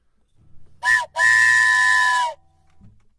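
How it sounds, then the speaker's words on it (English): A loud, steady whistle blast with a short lead-in burst, sounding close, like a train whistle, then fading into quiet. "the train whistle"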